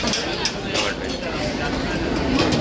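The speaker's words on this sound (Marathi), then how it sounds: "आता बघा समोर आली आहे ट्रेन पण एकदम खचाखच आली" A crowded Mumbai local train pulls into the platform with a steady rumble and faint metallic clinks, under station noise and nearby chatter.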